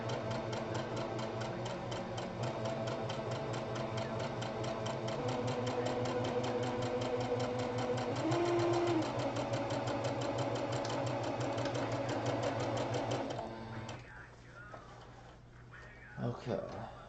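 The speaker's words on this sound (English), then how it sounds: "Now I just have to sew I'm practically resewing this" Sewing machine stitching fabric for a Resident Evil tentacle prop, a fast steady mechanical whir and tick running continuously up close, then slowing and stopping near the end with faint handling noise.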